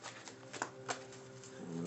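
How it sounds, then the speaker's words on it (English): Tarot cards shuffled by hand give a soft, faint papery riffle with a couple of brief crisp flicks, close by and quiet, with no talking. "Let me shuffle these two."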